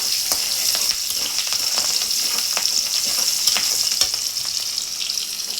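Green chillies sizzle steadily in hot oil in a wok, a dense continuous frying hiss broken by short scraping clicks as they are stirred.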